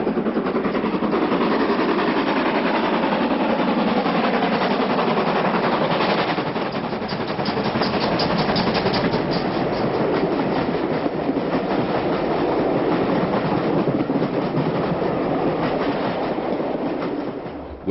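A slack-haul steam locomotive accelerates a southbound train over newly installed double track, a loud sustained roar of exhaust and rolling wheels with rhythmic clatter building through the passage, no voices.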